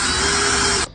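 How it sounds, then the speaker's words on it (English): An electric drill with a 3/4 inch bit bores into the center of a block of wood for a carpenter bee trap, giving a steady, loud whirring grind that cuts off abruptly just before the end. "Then you will drill a hole into the center of the wood"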